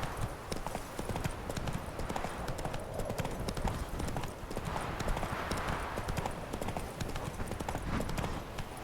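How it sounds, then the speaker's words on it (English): Horse hooves clip-clop steadily in a video game, a quick continuous rhythmic patter of hoofbeats, faint and mixed with game ambience. "Whoa there, Roach"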